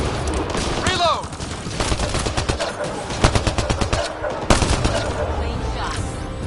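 Rapid automatic gunfire in a sci-fi shooter set in Mass Effect: Andromeda, loud clustered bursts of shots with sharp individual cracks, a brief sweeping whoosh early on, continuous combat noise throughout.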